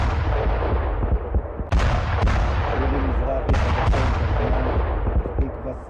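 A Hezbollah rocket attack strikes an Israeli military training center on the Golan Heights, with several sharp booming blasts and cracks over a constant roar of rumbling noise.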